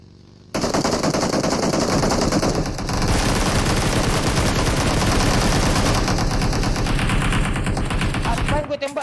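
Relentless automatic gunfire in the PUBG Mobile video game, loud rapid bursts of shots running almost nonstop for several seconds after a quiet start.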